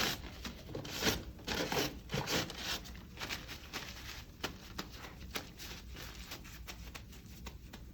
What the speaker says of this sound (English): and patting our hands